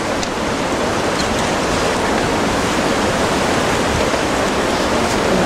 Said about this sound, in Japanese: 過去にないような大津波。